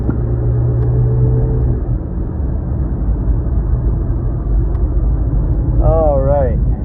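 A Mitsubishi Bravo microvan drives along with its window shut, giving a steady loud road and engine rumble throughout, with a brief rising whine near the end.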